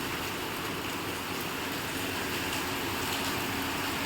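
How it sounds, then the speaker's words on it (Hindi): Heavy rain pours down in a dense, unbroken roar that holds at a constant level throughout, with no voices over it. "बहुत तेज आज बारिश हो रही है"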